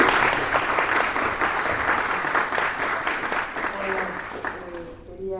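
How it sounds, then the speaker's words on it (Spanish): Audience at the opening session of an academic event applauding to welcome a speaker, dense sustained clapping that thins out near the end as a few voices begin. "te recibimos con un aplauso"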